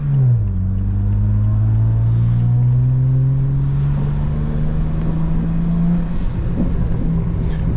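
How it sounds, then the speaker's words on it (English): A car engine with an aftermarket exhaust, heard from inside, drones and revs in a steady rising pull, with a few faint pops and crackles on top of the loud continuous engine note. "I fucking love this exhaust"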